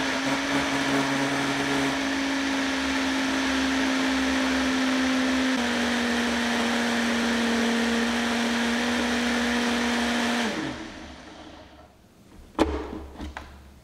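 A kitchen blender whirs loudly and continuously while blending a smoothie, shifting pitch slightly as it runs, then spins down around ten seconds, followed by a few faint knocks.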